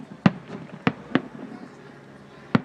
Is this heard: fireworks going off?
yes